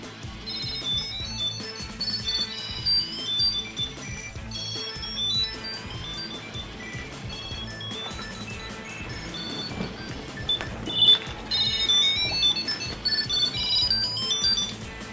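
A Tile Mate or Tile Pro Bluetooth key tracker rings after being triggered from its phone app, a bright, repeating electronic chiming melody that carries on steadily and fairly loud for the whole stretch, with no talking.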